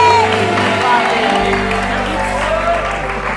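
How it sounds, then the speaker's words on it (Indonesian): Audience applause and cheering in a television studio talk show as guests are welcomed, a steady crowd roar over background music with people talking over it. "Tepuk tangan ada Lesti sama Salsa."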